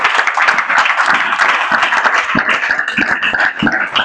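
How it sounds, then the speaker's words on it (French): A church congregation applauding, a dense, steady burst of many hands clapping close by, sustained for several seconds at a loud, even level. "Acclamez quand même ça, mes bien-aimés."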